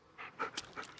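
A dog panting in the Blair Witch video game, a few quick, close, breathy pants in a short rhythmic burst.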